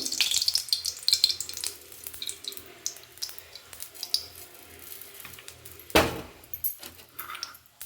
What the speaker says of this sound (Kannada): ನಾನು ಇವಾಗಲೇ ಕಡಲೆಕಾಯಿ ಬೀಜನ ಇದಕ್ಕೆ ಹಾಕ್ಕೊಂಡ್ಬಿಡ್ತೀನಿ